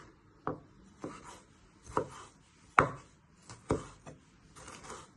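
A knife chops ginger on a board in a series of about six sharp, separate cuts spaced roughly a second apart, close and fairly quiet with no talking.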